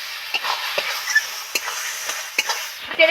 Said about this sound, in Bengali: এবার নেড়ে চেড়ে ভালো করে জলটা একটু কমিয়ে দেবো